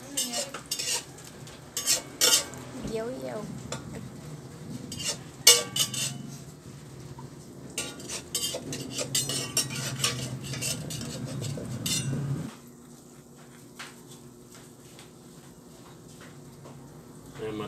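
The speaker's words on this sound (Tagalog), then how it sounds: "So, ayan, medyo kumukulo na." A pot of home-cooked food simmering on the stove while a utensil scrapes and clinks against the pot, irregular stirring knocks over a bubbling sizzle, then quieter simmering alone; someone speaks briefly.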